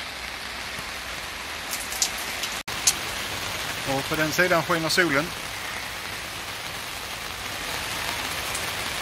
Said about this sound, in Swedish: Det regnar fortfarande lite.